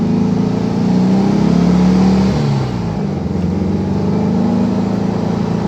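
A 1957 Beck Speedster Porsche replica pulls hard down the road, its engine note climbing steadily and dipping briefly at each upshift, loud and close throughout with a brief lull near the middle before it builds again.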